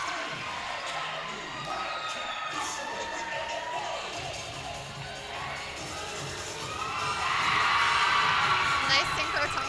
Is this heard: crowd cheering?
yes